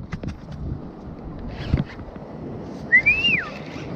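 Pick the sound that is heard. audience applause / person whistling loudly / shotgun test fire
person whistling loudly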